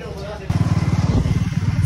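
A motorcycle engine starts pulling away after a repair, a loud, steady throbbing idle-to-rev rumble that begins abruptly halfway through and continues close by.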